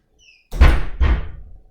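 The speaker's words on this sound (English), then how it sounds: "Close the door, please." A door shuts indoors with two heavy, close thuds a fraction of a second apart, the second dull knock trailing off; a faint squeak comes just before.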